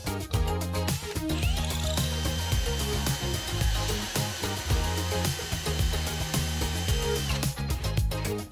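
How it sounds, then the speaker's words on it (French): Power drill boring dowel holes into wooden slats for a radiator cover, a busy close whine with rising and falling motor pitch, cluttered with knocks and clatter of the wood throughout. "Percez les autres trous de cheville dans les lattes de la même manière en respectant le même espacement."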